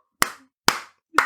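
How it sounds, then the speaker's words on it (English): Three sharp, separate hand claps, evenly spaced about half a second apart, close and dry in a quiet room, made by one person clapping alone. "I had to stop and clap myself"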